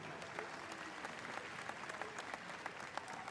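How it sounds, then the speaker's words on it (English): Spectators at a dog agility championship prize-giving clap for a presenter, a sustained, fairly distant ripple of applause with some sharper individual claps standing out. "Please give Sue a big round of applause."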